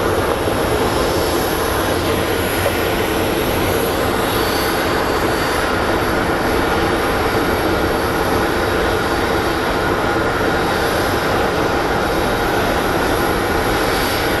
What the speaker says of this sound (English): here comes an American Airlines from San Jose del Cabo. It's a 737-800 series that's going to be landing on runway 26